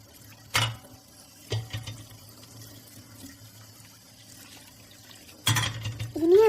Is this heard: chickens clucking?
no